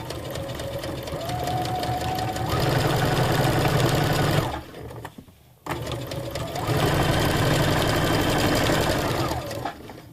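A sewing machine stitches a seam on a wedge pillow cover, running steadily for about four seconds, pausing briefly, then resuming for several more seconds, loud and close with no talk.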